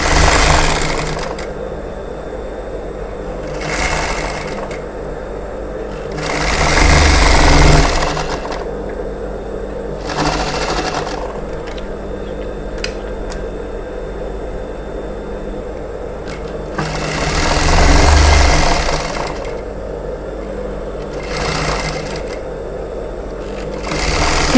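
Sewing machine stitching a straight seam on a plain blouse at a ladies' tailoring shop, running in several steady mechanical bursts with louder surges and pauses between, close and alone.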